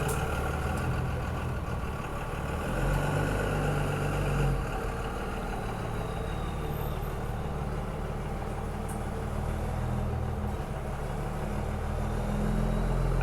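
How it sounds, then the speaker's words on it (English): A big truck engine idles steadily in an alley below a window, a low continuous rumble at moderate distance with slight swells, no talk. "people with big trucks love to come and park right below my window and run their engines"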